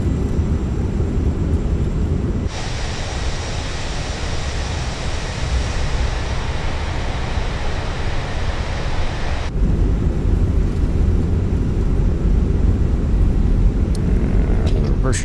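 Thrust reversers on a Fenix Delta A320 landing in the Microsoft Flight Simulator 2024 video game, a sustained loud broadband roar surging in for several seconds, then dropping back to a lower engine rumble.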